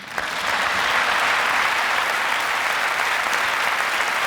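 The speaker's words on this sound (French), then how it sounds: "On peut applaudir Douglas Kennedy" A theater audience gives steady, dense applause for author Douglas Kennedy after his storytelling performance, a continuous wash of clapping with no voices.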